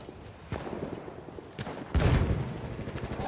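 Machine gun fire in the World War I shooter Battlefield 1, heard as bursts of gunfire over battlefield noise, with a louder heavy blast at about two seconds followed by continued rattling.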